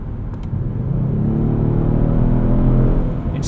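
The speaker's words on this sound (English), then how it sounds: "This twin turbo V6 it's just a little bit of an exhaust note back there." A 2018 Kia Stinger GT RWD with a twin-turbo V6 hums with a subtle, low exhaust rumble that swells steadily under acceleration, with some air whooshing and no one speaking.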